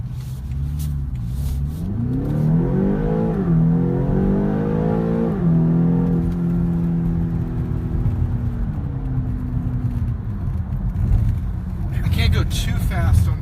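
A 2017 BMW X5 with an 8-speed transmission, all-wheel drive and Michelin Pilot Sport tyres accelerates hard on turbo boost. The engine note climbs steadily through the gears, close and loud, and a person talks over it.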